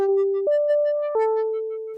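A Eurorack modular synthesizer plays a clean sustained tone with LFO-modulated cross FM, stepping between three held pitches with soft attacks, loud and alone with no voices.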